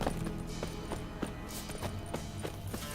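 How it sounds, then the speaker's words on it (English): Horse hooves clip-clop in a steady trotting rhythm in The Witcher 3: Wild Hunt, over a dense, continuous background of noise. "I've just summoned my horse."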